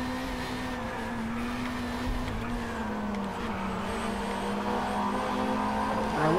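Race cars roar steadily through a lap in the racing game Drive Club VR, a continuous layered engine drone with shifting pitch and no talking.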